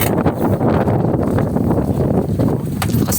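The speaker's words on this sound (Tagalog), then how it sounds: "Lakas ng hangin." Strong wind at a bayside beach in Laguna with big waves buffets the microphone in a loud, continuous rumbling roar with no pauses.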